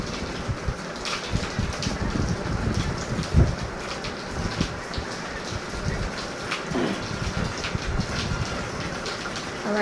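Steady monsoon rain falls and patters on surfaces nearby, a continuous dense hiss with scattered louder drips and splashes, and no talking.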